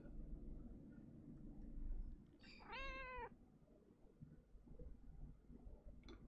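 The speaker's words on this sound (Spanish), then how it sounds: "un gato. Y una rata." A cat meows once in the video game Pentiment, a clear drawn-out call rising above a low rumbling background ambience, with no talking.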